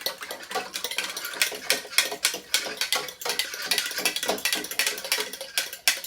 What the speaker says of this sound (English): we're going to take our fork now and just kind of whisk the yeast in